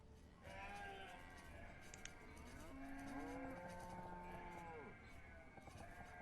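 Cattle moo in a farm scene from the colony-building video game Banished, several long lowing calls over a steady ambient background, fairly quiet.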